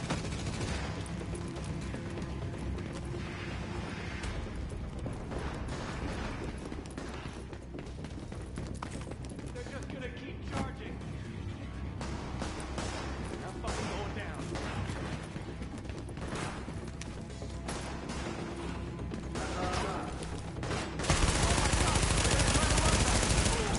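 Sustained gunfire in The Division on PS4, dense rapid bursts running through the whole stretch under a steady game soundscape, growing louder and harsher at the end.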